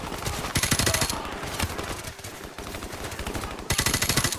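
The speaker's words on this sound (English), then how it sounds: "I do love the sound that this gun makes." Rapid automatic gunfire from a weapon in Modern Warfare Remastered, the Safe House mission, with dense bursts that pause briefly and resume loud and close.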